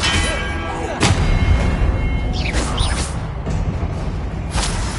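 Spell blasts from Confringo and Expelliarmus burst in Hogwarts Legacy combat, with sharp cracks and booming impacts landing at irregular intervals over a busy, clanging battle din.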